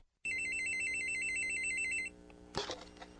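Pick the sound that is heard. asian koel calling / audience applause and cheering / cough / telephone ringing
telephone ringing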